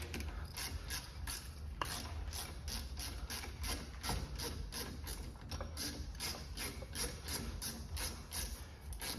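A 7mm Allen key tightening a caliper bolt on a VW Golf front brake, giving a rapid, steady ratcheting click repeated evenly throughout, fairly close and quiet with no talking.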